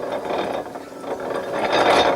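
An old hand-turned sewing machine mechanism clicks and ratchets steadily at close range, a dense gear-like rattle lasting the whole short moment with no talk.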